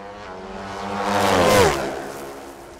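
An NHRA pro stock motorcycle roars down the drag strip, its engine note swelling as it passes close and then fading away in a single loud, rising and falling sweep.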